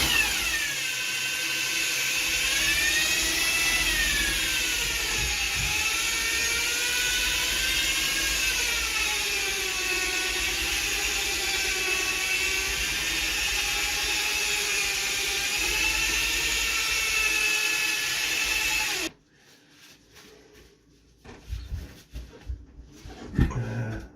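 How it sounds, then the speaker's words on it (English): A power drill fitted with a paddle mixer whirs steadily and loudly for about nineteen seconds while stirring a tin of magnet paint, its pitch wavering slightly, then cuts off abruptly, leaving faint handling knocks. "use a paddle mixer attached to a power drill, which is what I'm doing now"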